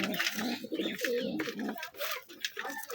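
A Giribaz pigeon coos close by in a run of repeated soft, throaty calls, fairly loud and continuous, with faint talk in the background.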